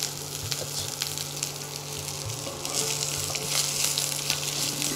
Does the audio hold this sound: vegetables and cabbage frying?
yes